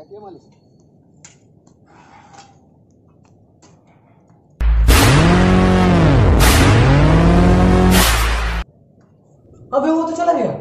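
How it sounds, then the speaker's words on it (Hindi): A car pulls away with a sudden, loud engine roar that lasts about four seconds, its pitch swooping up and down, then cuts off; a shorter rev bursts in near the end after faint background sounds. "ड्राइवर गाड़ी निकालो."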